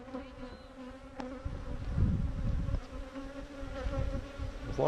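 Honeybees buzzing close around a beekeeper's veil, a dense steady drone that swells louder and bumps against the mesh, with no talking.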